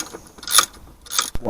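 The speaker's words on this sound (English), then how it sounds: "Compress it down as much as possible till it will fit between your two mountings." A compressor tightening a Land Rover Discovery 2 coil spring gives a close mechanical ratcheting clank, with two brief metallic bursts and a sharp knock at the end.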